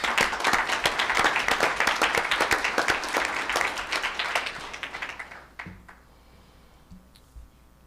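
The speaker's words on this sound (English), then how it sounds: "Let's give them another round of applause" An audience at a board meeting applauds in a brisk burst of many hands, loud at first, then thinning over several seconds into a few scattered claps before quiet.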